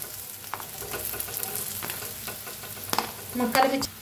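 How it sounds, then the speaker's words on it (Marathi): Corn kernels get mixed with red chili powder in a hot pan. A spoon makes irregular scraping and tapping strokes over a faint sizzle, heard close and fairly quiet, with a louder clatter near the end. "आता ह्याला मिक्स करून घेऊया।"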